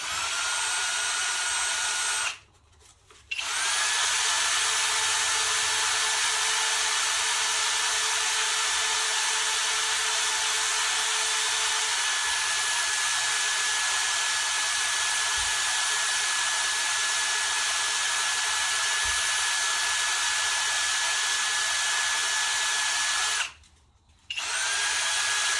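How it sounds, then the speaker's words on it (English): A power drill spins a TIG welding gas lens at low speed, producing a steady, loud high-pitched whine that runs for about twenty seconds between brief stops at the start and end. "take my gas lens, put it in my drill"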